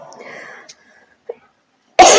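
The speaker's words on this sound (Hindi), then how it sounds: "मेरी क्या खांसी हो रही है" After some murmured speech, one sharp, loud cough bursts out near the end.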